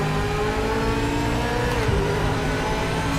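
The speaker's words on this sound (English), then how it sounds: "enjoy the sound of the engines" Race car engines rev and whine in the racing video game Project Motor Racing, a loud, continuous roar that rises and shifts in pitch throughout, with no speech over it.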